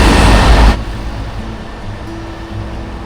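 A Dalian train on EDSA in Makati roars past loud and close for under a second, then cuts off abruptly and leaves a low, steady street and traffic rumble with no voices.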